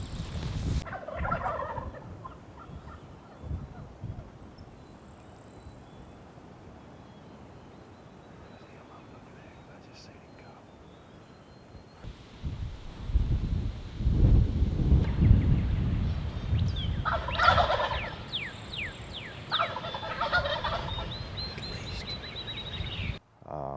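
Wild turkeys gobble near a brush pile during a Nebraska turkey hunt, with bursts of gobbling from a moderate distance separated by quieter stretches and low rumbling, and no talk over them.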